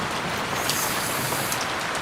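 Steady rain falls, a dense, even hiss that stays constant throughout the short stretch, with no voices.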